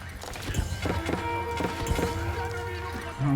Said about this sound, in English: Horse archers.